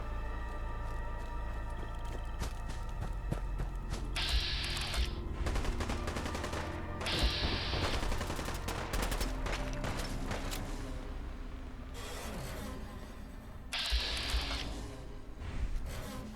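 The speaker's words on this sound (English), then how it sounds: "Well, there's gunfire." Rapid bursts of Fallout: London game gunfire, repeated volleys of automatic shots with echoing cracks, fairly distant, running continuously without talk.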